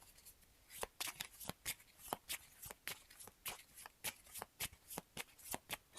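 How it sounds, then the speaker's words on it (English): Unsleeved playing cards from the Arkham Horror card game are riffled and shuffled close up. The crisp, rapid snaps come in a steady rhythm throughout, with no voices. "And then for Daisy, I will shuffle up."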